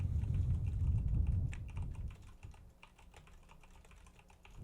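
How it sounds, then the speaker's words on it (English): Keys clacking on a computer keyboard, the WASD keys, spacebar and R key as in video gaming, mixed with mouse clicks, picked up close on a cheap SM58-style dynamic microphone; a rapid irregular run of sharp taps, louder at first and then lighter. "I'm pressing on the WSD key, spacebar R key, clicking that mouse"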